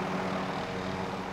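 Helicopter in the video game Call of Duty: Modern Warfare, a steady droning rotor and engine hum, continuous and moderately loud with no talk.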